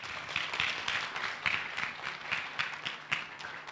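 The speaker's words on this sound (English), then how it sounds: "So please give her a big welcome, a big round of applause." A small audience at a science conversation series event claps to welcome a speaker, scattered distinct hand claps in an irregular rhythm, fairly quiet and alone.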